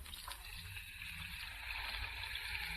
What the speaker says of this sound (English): Why, that's water running